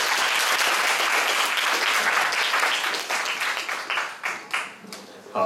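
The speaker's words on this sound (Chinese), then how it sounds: "那请大家再用热烈的掌声感谢他们" An audience applauds warmly at the end of a talk and Q&A session, a dense burst of clapping that gradually thins out into scattered individual claps.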